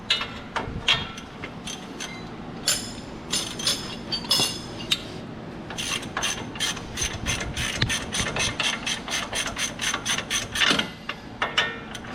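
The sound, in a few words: ratchet with 15/16 6-point socket on Ram 1500 control arm bolt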